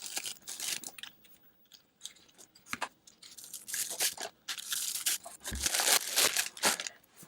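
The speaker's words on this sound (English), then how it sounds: "Let me get everything unwrapped here." Heated mitten packaging and plastic wrap being pulled open and torn, crinkling and rustling in close, uneven bursts with brief pauses, growing busier toward the end.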